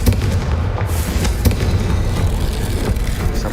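A Confringo fire curse in Hogwarts Legacy lets off loud, close blasts, a burst of booming crackles and sharp explosive hits over a dense rumbling roar, with no talk.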